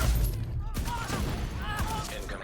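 Heavy, booming gunfire in The Division 2, a dense burst of blasts with shotgun-like punch, loud and close, sometimes with scattered game voices or effects.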